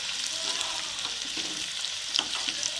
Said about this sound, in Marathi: लसूण पूर्ण फ्राय झाला पाहिजे, लाल कलर आला पाहिजे लसणाला